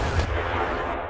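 A single heavy tank cannon shot in World of Tanks, a loud close boom with a long rumbling low tail over steady engine noise, fading out at the end.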